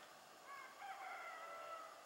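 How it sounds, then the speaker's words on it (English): Early-morning rooster crowing far off, a faint drawn-out call over a steady outdoor background hiss, with no talking. "rooster crowing in the background,"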